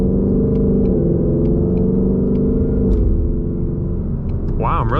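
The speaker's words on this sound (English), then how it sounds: "Wow, I'm really liking those downshifts." A 2020 Ford Mustang GT with a Lund 91 octane tune downshifts, its loud, close engine rumble shifting pitch twice, before a voice speaks briefly at the end.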